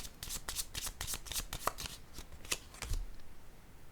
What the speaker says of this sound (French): Pourtant, j'ai mélangé toutes mes cartes.